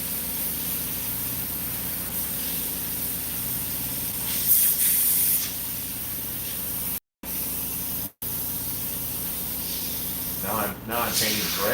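Airbrush spraying white paint onto masks, a steady hiss running almost continuously with two brief cutoffs, near and fairly loud, with a voice talking over it near the end.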